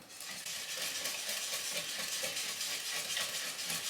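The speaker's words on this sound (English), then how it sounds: "Oh my gosh, it's so much easier with the whisk." Banana bread batter being whisked in a bowl, a dense, steady scraping and swishing that carries on without pause, close and fairly loud, with no talking.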